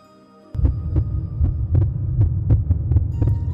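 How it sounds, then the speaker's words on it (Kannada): A heavy, low heartbeat sound effect for a horror story thumps loud and close in a steady double-beat rhythm, about a dozen beats over a soft hum, with no voices. "ಅವಳಿಗೆ ಹಾರ್ಟ್ ಬೀಟ್ ಜೋರಾಗಿ ಬಡ್ಕೊಳ್ಳುತ್ತೆ"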